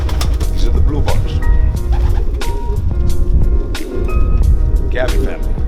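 Blue bar racing homer pigeons coo softly in a loft, with low throaty calls under loud, close talking and background noise.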